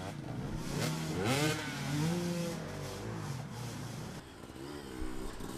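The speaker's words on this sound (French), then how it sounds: "Et il remet les gaz" A hard enduro racing motorcycle engine revs up as the rider opens the throttle, rising and falling in pitch several times at moderate distance against a rough outdoor background.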